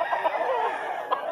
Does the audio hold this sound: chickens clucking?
yes